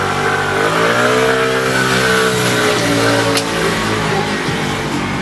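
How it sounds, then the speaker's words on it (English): A moped engine passes along a residential street, a steady mid-pitched drone with changing revs that rises and falls over several seconds, fairly loud and close, with no talking. "That man on this moped has drove up and down this street about 5 times, and it's driving me crazy."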